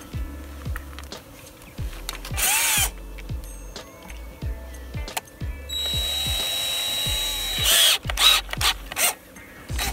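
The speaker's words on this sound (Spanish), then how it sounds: "hay que taladrar el marco" Repeated short mechanical bursts with a ratcheting, whirring power drill using a 2.5 mm bit on a door frame, several pulses in steady rhythm, close up, with a couple of louder higher-pitched whines.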